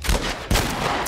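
Two heavy blasts of shotgun fire in The Last of Us, each a loud broadband crack with a rumbling low tail, the second about half a second after the first, with no talking.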